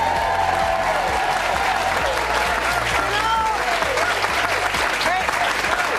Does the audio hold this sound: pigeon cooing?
no